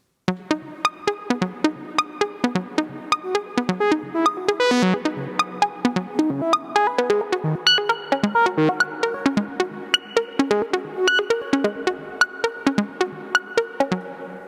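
Modular synth saw wave run through a wavefolder and a Doppler low pass gate, playing a busy sequence of short plucked notes with sharp attacks and quick decays, bright and close with no voices.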